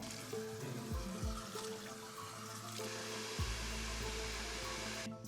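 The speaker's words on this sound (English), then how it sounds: "A good blow dry can hide any mistakes made in the process." A hair dryer runs steadily while blow drying hair in a salon, a loud, close, continuous whooshing roar with small shifts in pitch as it moves, and no talk.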